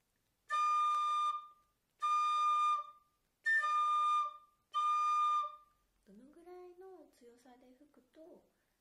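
Four sustained high tin whistle notes sound one after another with short gaps, followed by a quieter voice speaking.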